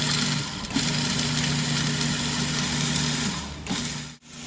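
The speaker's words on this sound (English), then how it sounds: "He's going to turn on that food processor," Food processor grinding pesto with freshly grated Parmesan cheese, a steady mid-pitched motor whir running evenly, pausing briefly near the start and cutting off abruptly just before the end, with no voices.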